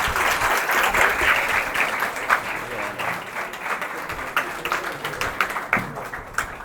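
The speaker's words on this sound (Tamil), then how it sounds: "ஒரு நல்ல கரவொலியோடு வர வைப்போம்." An audience claps to welcome guests at a free Aari embroidery and tailoring class for women run by ExNoRa International, steady dense applause with some louder individual claps, fairly close, faint voices underneath.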